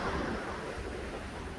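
Ocean waves wash onto the shore at sunset, a steady, broad surf roar with low rumbling swells and some wind noise, continuous and fairly close.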